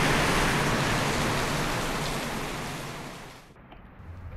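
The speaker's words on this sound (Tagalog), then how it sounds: "Kaya ako makatulog sa lakas ng ulan." Heavy, unbroken rain pours down at night in a steady broadband roar that fades slightly before cutting back near the end.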